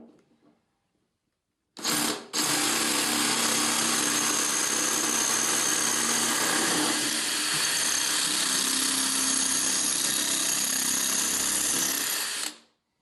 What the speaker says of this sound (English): Drill the tiles using this 7mm Bosch drill bit.